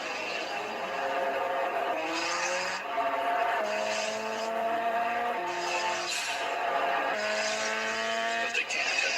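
A Turbo Z race car engine revs hard and climbs through its gears again and again, steady and loud, with rising whines and squealing tires sliding throughout.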